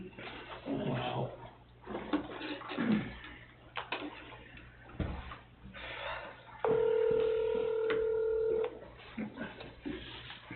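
A speakerphone at a town board meeting dials out: a run of faint key tones, then a sustained electronic tone of about two seconds, heard amid quiet room murmur and shuffling.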